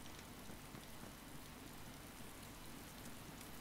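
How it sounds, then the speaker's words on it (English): Steady rain falls in the video game DayZ, a continuous broadband hiss of drops across the whole stretch with no talking over it. "Raining again."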